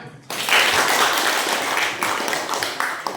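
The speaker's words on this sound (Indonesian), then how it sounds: "Mantap, tepuk tangan." A classroom of students claps in a lively burst after a sudden start, the dense applause holding steady for a few seconds with faint voices mixed in.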